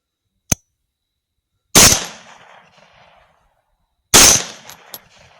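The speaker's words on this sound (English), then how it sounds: "I'm just trying to get to a position where I can shoot over the fence" Rifle shots from a 6.5 Grendel at hogs ring out outdoors: a brief sharp crack followed by two loud reports, each trailing off in a rolling echo.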